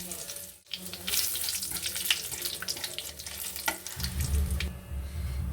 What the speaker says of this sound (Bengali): ওই মাছ ভাজার তেলে আমি একটু তেল দিয়ে দিচ্ছি দিয়ে দিচ্ছি গোটা জিরে দুটো তেজপাতা